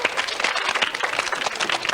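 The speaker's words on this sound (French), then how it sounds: "on les applaudit" An audience claps for children who have just finished a timed game challenge on a French children's TV show, a dense, steady patter of many hands lasting throughout at moderate loudness.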